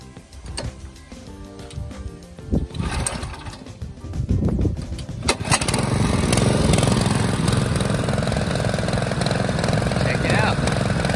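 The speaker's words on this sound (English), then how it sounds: "this is also the intake for the pond fountain. So I'm gonna go ahead and crank it up" Handling noises and a voice lead into a pond fountain pump starting up about halfway, then a loud, steady, engine-like whirring hum that continues unbroken to the end.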